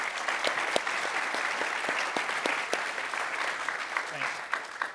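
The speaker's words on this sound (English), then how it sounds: "Can we have a huge round of applause for the audio team that's just been running the stage?" A crowd at a live podcast show gives a round of applause for the audio crew, steady, fairly distant clapping with sharp individual claps standing out, quiet overall.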